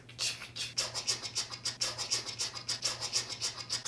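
Curl cream being squished into hair by hand, a rhythmic series of wet, scratchy squelching strokes repeating about four times a second, close and alone without talk.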